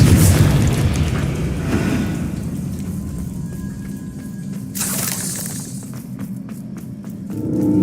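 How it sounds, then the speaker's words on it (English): An Expelliarmus spell fires in Hogwarts Legacy with a heavy booming blast that decays into a rumbling tail, followed by a bright crackling burst and a sharp final impact. "Expelliarmus!"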